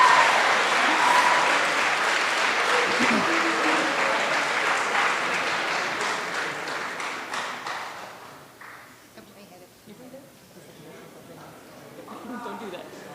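Applause from the audience at a 2023 student leadership awards ceremony fills the first eight seconds, dense and close, then drops away abruptly to sparse claps and someone speaking over the quieter room.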